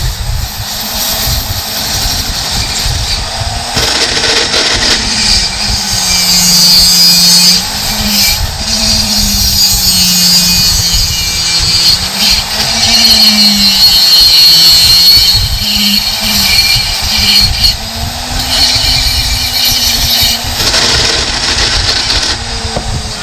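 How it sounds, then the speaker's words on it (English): A loud, steady mechanical whine from a spinning handheld rotary tool with bad bearings, carving a duck decoy, its pitch wavering and grinding as it runs continuously with a rough, rattling edge. "Noise you hear, combination of the shaft, but more of that the bearings are bad."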